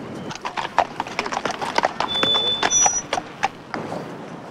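Horses walk on a hard street during a ceremonial tribute to the Dutch royal house, their hooves clip-clopping in a brisk, overlapping rhythm, close and loud, with a faint whinny-like tone over a low crowd murmur.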